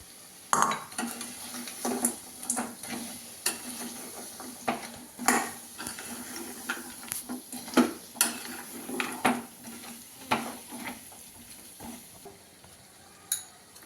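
Chicken pieces dropped into a hot pan with oil and aromatics, giving a soft sizzle under repeated clattering spoon scrapes and knocks against the pan, close by, no voices.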